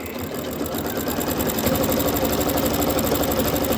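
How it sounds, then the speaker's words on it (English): Sewing machine stitching binding down onto a quilted table runner, a continuous close mechanical whir with rapid regular needle pulses, steady and even in speed throughout. "when I start sewing down the binding onto the runner or the quilt or whatever it is"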